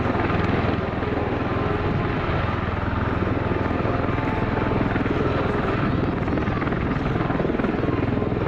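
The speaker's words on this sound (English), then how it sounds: "It's just a very nice, stable descent down" Steady, loud helicopter rotor thump and engine roar, holding constant throughout as the aircraft comes down close by.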